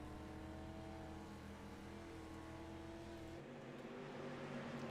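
Dirt street stock race cars in a video game roar steadily as a pack, engines droning and revving continuously at close range with no pauses.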